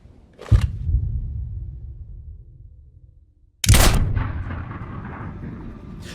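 Two loud gunshots in the Battlefield 6 video game campaign, each a sharp near blast with a long rumbling tail, the second coming about three seconds after the first.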